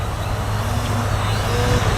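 Small RC model plane engine rising under added throttle while the aircraft comes down low to hover in gusty wind, a steady close buzzing drone with low tonal bands that holds evenly throughout.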